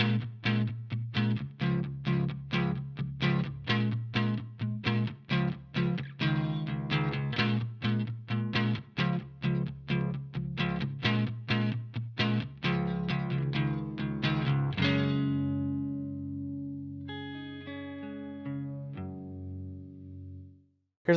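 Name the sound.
Stratocaster electric guitar with effects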